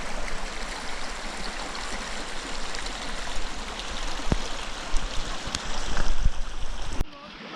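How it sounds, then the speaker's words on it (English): A mountain stream on the Cradock and Montagu passes rushes steadily over rocks, a broad continuous babble with occasional splashes, close by, then abruptly cuts quieter at the end. "Quite a bit of water running down here."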